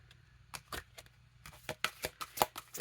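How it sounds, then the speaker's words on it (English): A deck of oracle cards being shuffled up close, giving a quiet, irregular series of short papery flicks and riffles with brief pauses between them. "We're just shuffling right now."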